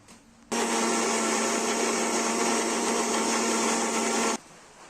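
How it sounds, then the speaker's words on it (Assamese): An electric blender grinds soaked rice, green chillies and onion into a paste, a loud steady whirring roar that starts abruptly, holds for about four seconds and then cuts off. "চাউলখিনি মই পেষ্ট বনাই ল'ম।"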